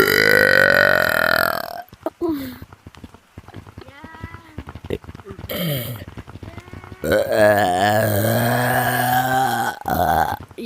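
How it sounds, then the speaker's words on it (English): Loud, drawn-out human burps, one at the start and a long one near the end, with someone talking and shouting to passersby outdoors in between. "I'm burping here!"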